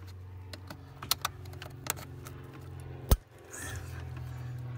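Keys clink at a car's ignition switch during a covert GPS tracker install: a few sharp metallic clicks and jingles over a steady low hum inside the vehicle.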